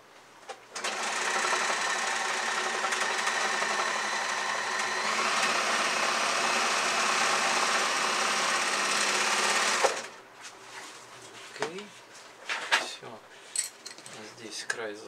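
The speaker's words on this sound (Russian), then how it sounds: "Теперь я также пройдусь по краю, закрепим край и делаем отделочную строчку." A sewing machine topstitches along the edge of a top made from old denim jeans, running loud and steady for about nine seconds before stopping abruptly. Afterward come handling clatters and fabric rustling, with speech in the background.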